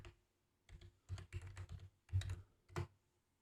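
Typing on a computer keyboard, a quiet run of close key clicks in uneven bursts with short gaps and no talking.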